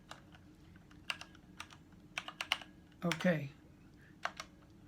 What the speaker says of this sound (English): Typing the password, you can't see that